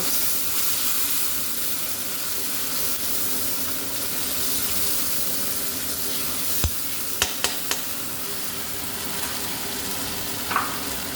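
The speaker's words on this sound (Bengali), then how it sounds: "মশলাগুলো ভাজা ভাজা হবে" Spice paste of ginger, green chili and tomato with turmeric and ground coriander fries in a pan with a splash of water, giving a steady soft sizzle, broken by a few sharp clinks of a stirring utensil against the pan near the end.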